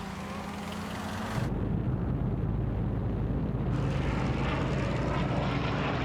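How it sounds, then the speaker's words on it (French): Allied propeller-driven warplanes of the Second World War flying overhead in Normandy during Operation Overlord, a loud, steady, continuous engine drone that swells sharply after a moment and holds on without any talk. "Les avions et l'artillerie alliés vont les matraquer sans relâche."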